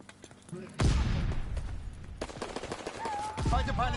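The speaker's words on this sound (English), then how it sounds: "Fighter pilot inbound, strafing the target." Strafing gunfire from a fighter plane in the World War II video game Call of Duty, a dense burst of rapid shots with a boom, then more firing and a rising whistle, over game noise.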